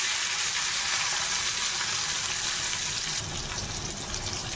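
Ginger and tomato hit hot oil tempered with whole cumin and dried chilies for a taro and hilsa fish curry. The close, loud frying hiss holds steady, with a splashy, watery edge coming in toward the end.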